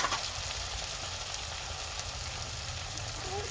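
Chopped tomatoes frying in a pan, a steady close sizzle and crackle with a low hum underneath, continuous for a few seconds and without talk.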